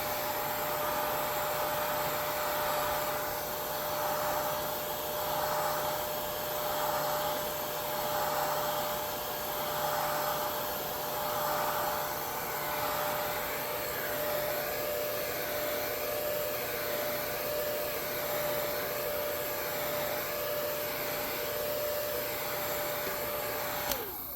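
A heat gun on low setting blows over a freshly airbrushed 7-inch shad fishing lure, a steady loud airy whoosh running the whole time with a faint pulsing sweep as it moves back and forth.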